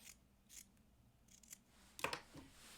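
Scissors trim fabric at a shirt neckline in a few quiet, separate snips, the last two crisper and louder.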